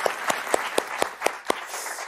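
Studio audience on a French game show applauding, heard as evenly spaced sharp claps at a steady rhythm over a soft bed of crowd noise, moderately loud and close.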